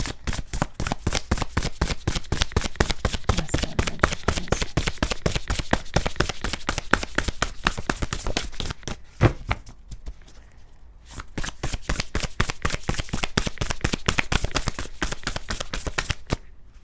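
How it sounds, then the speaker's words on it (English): A deck of oracle cards that keep sticking together being shuffled repeatedly, with dense rapid riffling and flapping running steadily, a short pause near the middle, then more shuffling, loud and close with no talk. "They're kind of sticking together, so I might have to shuffle a couple times."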